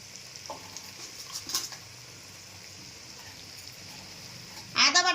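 Chili powder is stirred into garlic paste frying in a pan, giving a faint, low sizzle with occasional scraping stirs, then a louder clatter of the spoon against the pan near the end.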